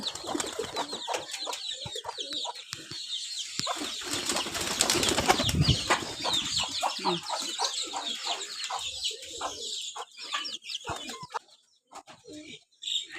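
Chickens kept in on a rainy day clucking and squawking close by, with a burst of wing-flapping and scuffling near the middle, then quieter scattered clucks as the flock settles, under steady rainy background noise.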